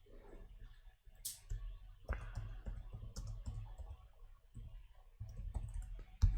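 A computer keyboard being typed on close up, a scattered run of quick clicks and key taps in short bursts over a low background hum, with no talk.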